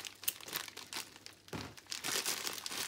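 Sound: scissors cutting open a plastic bag

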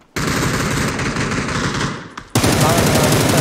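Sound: gunfire in a shooting video game

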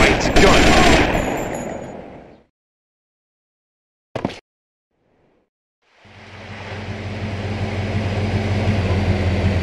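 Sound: gunfire in the video game GTA Vice City Stories

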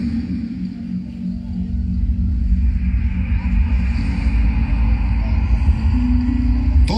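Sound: storm rumble sound effect in an animated film

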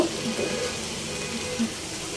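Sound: frying okra in a pan

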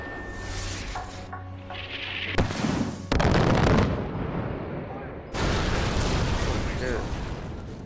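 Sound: gunfire in the video game Far Cry

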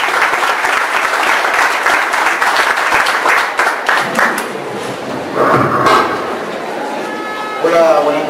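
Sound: audience applause welcoming the speaker

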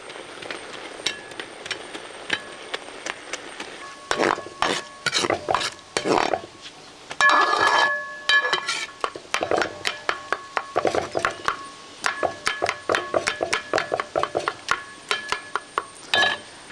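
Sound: mashing cooked pachadi in a pot with a ladle

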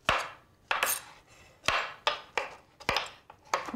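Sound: knife slicing cremini mushrooms on a board

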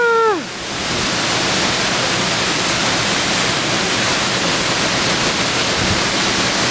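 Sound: waterfall, heard from behind it

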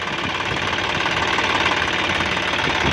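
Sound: three-cylinder turbo engine of John Deere 5065E tractor running

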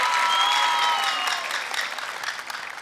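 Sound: audience applause

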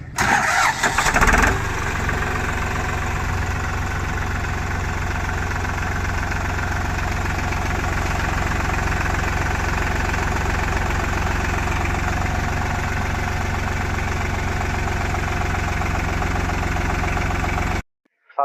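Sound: tractor engine starting and idling

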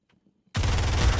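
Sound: gunfire in the video game Zero Hour

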